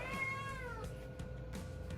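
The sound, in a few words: cat meowing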